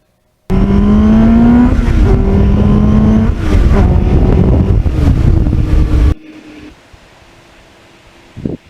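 Thirty-two-year-old restored Kawasaki Ninja motorcycle ridden through gears on a windy road in North Jersey, with loud wind buffeting over the revving engine, which then cuts abruptly to a quieter murmur.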